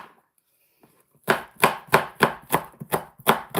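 A knife chops onions on a board in seven firm, evenly spaced strokes after a quiet pause, each one a close, crisp thud.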